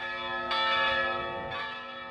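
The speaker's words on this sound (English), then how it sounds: "These bells toll for the newborn babies and for the newly wed couples of Quetzal." Church bells toll from a belfry in a small town: two resonant strikes about a second apart, each ringing on with long humming overtones, heard alone at moderate distance.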